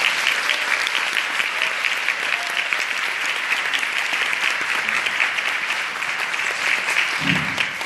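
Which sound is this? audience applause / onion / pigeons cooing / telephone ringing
audience applause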